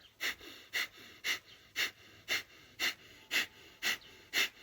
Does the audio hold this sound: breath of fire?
yes